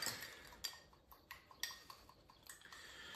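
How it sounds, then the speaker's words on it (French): A spoon stirring a small egg white and water mixture in a bowl, quiet close clinks and scrapes at an irregular pace against a faint background, no talking. "mais on mélange avec une cuillère."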